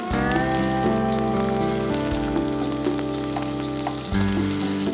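Onions frying in hot oil with red chilies and mustard seeds for a cabbage and tomato uppkari, giving a steady, loud close-up sizzle that continues alone throughout.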